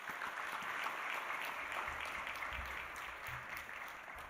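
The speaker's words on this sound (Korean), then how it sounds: "함께 박수로 환영해 주시면 좋겠습니다." Church congregation clapping together during a worship service to welcome a visitor, a soft, steady patter of many hands heard from a distance, sustained and fairly quiet.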